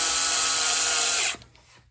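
A power drill whines steadily as it drives a screw into an electric guitar during a pickup swap, then cuts off abruptly, leaving quiet.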